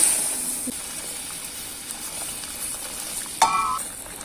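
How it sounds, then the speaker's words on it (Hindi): Sizzling and hissing from a hot pan as boiled water is poured into frying semolina for halwa, with a sharp burst of steam partway through. "अब हम इसमें ये उबला हुआ पानी डाल दें।"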